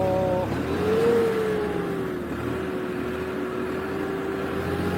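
A tractor engine pulling a large plough through a field at an ashram in Sirsa, a steady droning hum with a slight pitch rise early on, then holding an even, close, continuous tone.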